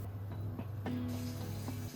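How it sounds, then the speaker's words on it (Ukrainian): Water drains and runs over pork and chicken meat being rinsed in a pot at a sink, giving a steady close splashing hiss with a few brief clunks. "Потім зливаю воду і добре промиваю усе м'ясо від запеченої крові."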